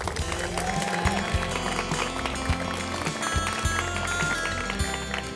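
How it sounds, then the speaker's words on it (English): A crowd at a charity evening for an autism treatment center applauds with steady, dense clapping. Heavy low rhythmic thumping runs underneath throughout. "please give him a big round of applause"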